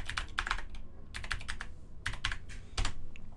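Close, crisp keystrokes on a computer keyboard as login details are entered, coming in short quick bursts with brief pauses between them.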